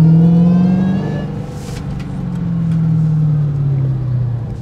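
Dodge Hellcat with an aftermarket Jailbreak Legmaker intake, heard from inside while driving: a loud supercharger whine rising and falling with engine revs over a deep exhaust rumble.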